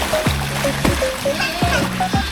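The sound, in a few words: child splashing in water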